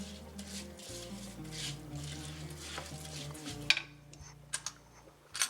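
Rice grains being stirred in oil in a pot, a soft scraping and rubbing with a few light clinks of a utensil against the pot, close and quiet over a low steady hum, with no talk.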